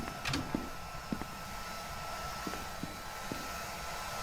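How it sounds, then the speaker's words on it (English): A hair dryer left running in a haunted house in Phasmophobia (Willow Street) gives off a steady airy whoosh, moderately loud and continuous, with a few faint clicks and knocks scattered over it. "Oh, it's the hairdryer."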